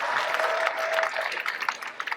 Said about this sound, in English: all of the applause for you, truly.